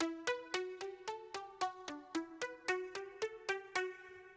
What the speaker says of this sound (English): This is a very direct, a kind of a short, plucky sound